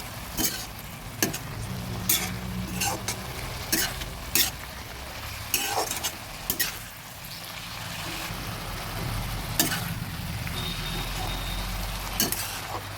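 Red spinach cooks down in a pan, wet and steaming, while a utensil stirs it in irregular scrapes and knocks over a low, steady simmering hiss; no one speaks.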